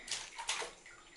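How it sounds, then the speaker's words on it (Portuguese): A baby in a bathtub slapping the water, two quick soft splashes followed by a fading slosh, close but quiet. "Bate na água, bate."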